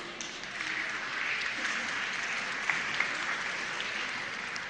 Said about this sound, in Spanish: A ustedes un aplauso